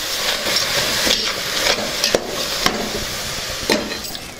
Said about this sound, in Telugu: ఇది మొత్తాన్ని ఒకసారి కలుపుకుందాం